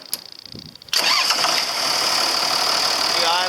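A diesel engine in a 7410 fires up after an injector pump repair: a short cranking stretch, then it catches abruptly and settles into a steady, loud idle close by.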